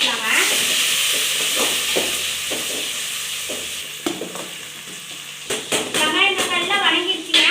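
Onions and tomatoes sautéing in a pan for mutton curry give off a loud, close sizzle with bursts of stirring and spatula scrapes, while a person talks over the cooking.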